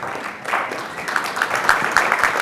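An audience bursts into clapping at a motivational talk, a loud, dense patter of many hands that swells quickly and keeps going steadily, with no voices on top.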